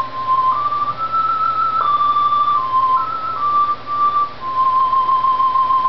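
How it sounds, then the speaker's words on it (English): On a Lowrey GX-2 organ, a whistle voice plays a slow, clear melody of sustained pure tones that glide between pitches, with a steady faint background hum and no talking. "Here's that whistle like in the movies from 20 years ago."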